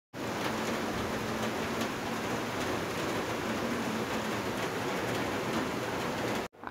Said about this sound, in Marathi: आणि भजे काढतानाच पाऊस तुम्ही बघू शकतात, किती जोराचा पाऊस सुटलेला होता।